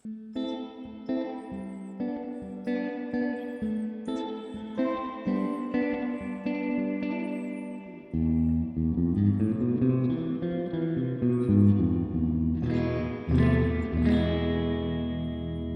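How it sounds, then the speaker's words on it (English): Electric guitar played through a Joyo Atmosphere reverb pedal on its spring reverb setting, picking single notes and then strumming chords, each ringing out with a reverberant tail. "the next one is a traditional spring reverb"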